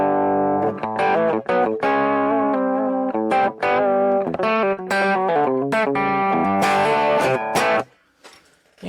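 Electric guitar with PAF humbucker pickups played in a bright, snappy chicken-picking style through effects, quick plucked notes in busy runs, loud and upfront, ending with a brief decay.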